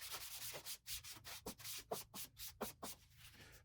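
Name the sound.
rubbing garnet shellac onto sanded beech with tissue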